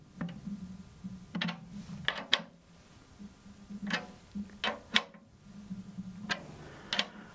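Snare drum tension screws turned with a drum tuning key, producing small metallic clicks and ratcheting ticks in irregular bursts, close up, with faint background hum.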